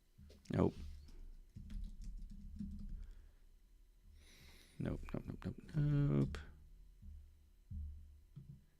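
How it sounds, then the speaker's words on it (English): A computer mouse clicks rapidly and lightly during a live tech stream, with soft scattered clicks running under close conversational speech. "You're clicking madly."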